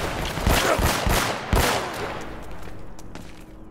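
Pistol gunfire in Uncharted: Drake's Fortune, several sharp shots in an uneven burst over the first half, then a fading reverberant tail with no talk.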